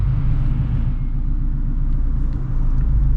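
Straight-piped Shelby GT350 in fun mode idling at a city light late at night, a steady loud low rumble with a throbbing exhaust burble, heard from inside the car with no talking.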